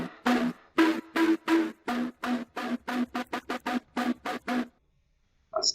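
Synth bass run through diode distortion, a gritty, buzzing tone chopped into a rhythmic string of short stabs that speed up into tighter bursts, then stops dead with one faint blip after.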